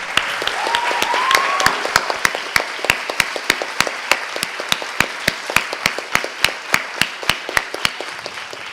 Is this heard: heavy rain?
no